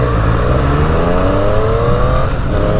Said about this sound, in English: It sounds like a bunch of pissed off bees.